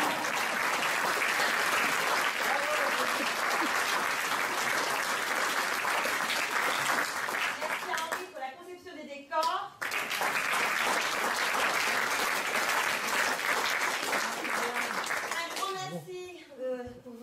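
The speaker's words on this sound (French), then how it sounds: "Vos applaudissements, vos rires. Merci pour votre présence." A theatre audience applauds loudly and continuously through most of the stretch, a brief dip near the middle, with voices speaking over the clapping at times.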